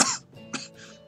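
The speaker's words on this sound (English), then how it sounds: "I almost made it through without coughing one more time." A person coughs and clears their throat, a sharp initial cough followed by a couple of softer raspy bursts, close and alone.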